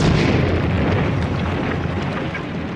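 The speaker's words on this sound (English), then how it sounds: "I heard the explosion." A loud, booming roar fills the clip, a heavy rumbling blast that slowly fades without ever falling quiet.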